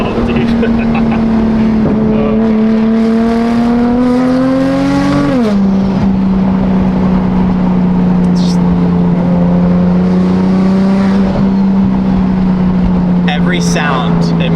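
A BMW M4 engine roars loudly from inside the car as it accelerates, the pitch climbing steadily before a sharp drop on an upshift, then pulling again under wind and road noise.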